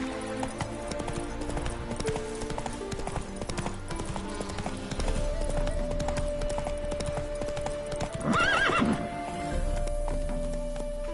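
In The Witcher 3: Wild Hunt, a horse gallops with steady, rapid hoofbeats and clopping throughout. A loud neigh breaks through near the end, all set over game ambience.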